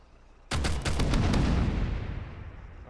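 An explosion from blowing up an enemy in the Arma 3 video game: a sudden loud close blast followed by rapid crackling reports and a long rumbling decay.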